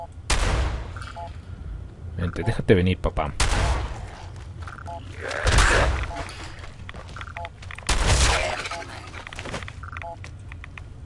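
A combat shotgun fires in the video game Fallout 4, with several loud, sharp blasts spaced a couple of seconds apart, each followed by a short tail, while someone talks between and over the shots.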